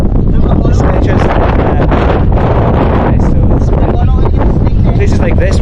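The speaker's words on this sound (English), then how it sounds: "it's got a nice wind in this part of the island" Strong wind blows across a salt farm on an island in the Philippines, buffeting the microphone with a constant loud roar and rustle that never lets up.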